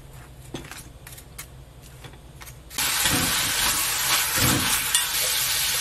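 Beef brisket hits a heated earthenware pot or saucepan for stir-frying and bursts into a loud, steady hiss and sizzle that continues evenly after quieter kitchen sounds.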